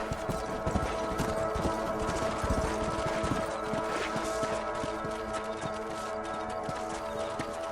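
Horse hooves clip-clop steadily in Red Dead Redemption (2010, PS3), several mounts trotting together in a continuous close rhythm over a constant bed of game ambience and music.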